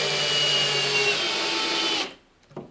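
A power driver runs GRK number 10 Torx screws into barnwood for a display case, a steady loud whir lasting about two seconds before cutting off, followed by a brief faint knock.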